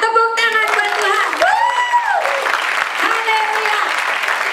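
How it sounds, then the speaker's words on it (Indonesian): A church congregation claps and cheers for God at a Christian sermon. The applause is continuous and lively, and loud voices and sung or shouted tones ring over it throughout. "tepuk tangan buat Tuhan"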